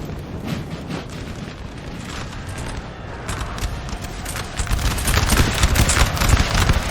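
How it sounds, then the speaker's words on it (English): Artillery cannon fire from 12-pounder guns in Napoleon Total War, a dense, continuous battle rumble of overlapping booms and crackling volleys that swells louder toward the end, with no talk. "Russia getting hit by artillery as they advance."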